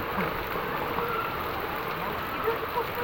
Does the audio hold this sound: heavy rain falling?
yes